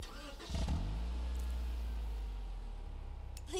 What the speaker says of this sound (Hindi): भाई बंदा लिटरली गाड़ी लेके घूम रहा है